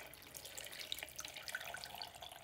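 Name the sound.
cold tea being poured into a fern pot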